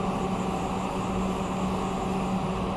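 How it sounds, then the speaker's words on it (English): Haas CNC lathe spindle spinning up in a small machine shop, a constant motor hum with steady tonal whine, even and unbroken, moderately loud and close with no voices. "Turn the spindle on"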